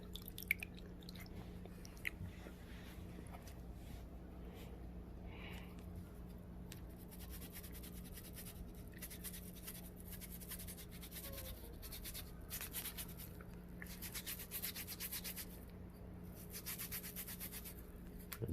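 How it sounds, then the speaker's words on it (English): A pumice stone rubbed back and forth over callused skin on a hand, producing faint, close, steady scratchy scraping strokes throughout, with no speech. "now I'm going to use the pumice stone."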